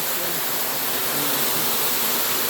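A waterfall pours steadily with dense, unbroken rushing water noise, loud and close, with no other sounds standing out.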